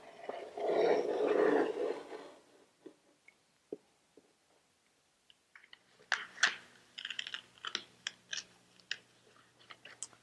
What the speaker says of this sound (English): So I'm going to get my MDF template there and just take my utility knife and start cutting.